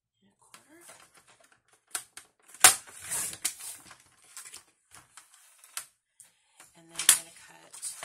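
Paper strips being cut for a Valentine's kisses box, a run of sharp irregular snips and clicks with quiet gaps between, close by, with a voice talking briefly.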